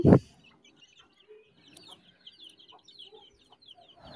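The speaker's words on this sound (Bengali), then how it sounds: "অবশেষে আমাদের মুরগির বাচ্চাগুলো ধরে ফেলছি" Young chickens just caught, giving scattered soft clucks and chirps with a loud bump at the start, then intermittent faint calls at close range.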